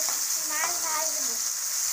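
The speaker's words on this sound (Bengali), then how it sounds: "মাছ ভাজবো।" Native bata fish frying in a pan, giving a steady bright hiss of sizzling oil close by, with a faint voice briefly heard underneath.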